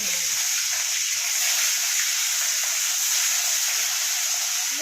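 Pieces of fish fry in mustard oil in a hot wok, producing a soft, continuous hiss and sizzle that stays even and moderately quiet from start to finish.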